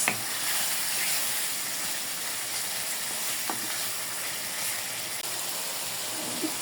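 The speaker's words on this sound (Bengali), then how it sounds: "মাছগুলো দিয়ে দেবো মাছগুলো একটু হালকা কষাই নেব" River fish sizzling in a pan of cooked-down spice paste, a steady close hiss of frying with faint stirring clicks throughout, no voices.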